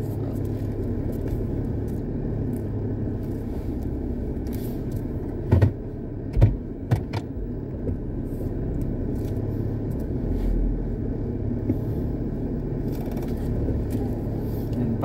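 A 2008 Nissan Pathfinder rolls slowly into a parking area, its steady low engine rumble continuous throughout, with a few brief knocks and scrapes standing out midway.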